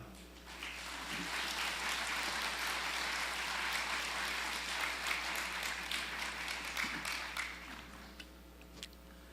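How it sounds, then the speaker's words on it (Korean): An audience at a national elders' association testimony gathering claps in steady, dense applause that swells and holds for several seconds at a moderate distance, then tapers off. "큰 박수로 모시겠습니다"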